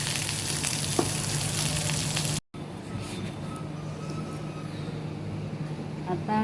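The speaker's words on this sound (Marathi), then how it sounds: "आता मिरची भाजली." Green chilies fry in oil with a steady, fairly loud sizzle that runs throughout, briefly cut by a short silent gap midway, with a low hum underneath and faint voices at times.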